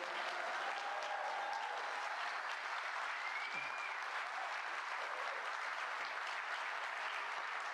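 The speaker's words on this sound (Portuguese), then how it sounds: "pedir uma salva de palmas ao nosso líder Luiz Inácio Lula da Silva" Sustained applause fills a Brazilian government event on public security funding as the audience claps for President Lula, a steady, even wash of many hands at a distance, with no speech.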